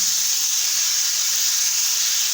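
A pan of ripe guava sabzi seasoned with salt is sautéed uncovered, giving an even, loud hiss that holds steady from start to finish without talk.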